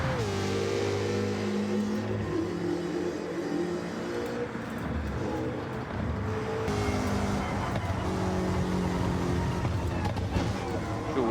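The Roadster Shop Road Rage Camaro race car drives hard on a track, its engine droning and rising in pitch as it accelerates. Someone talks over the steady engine roar throughout.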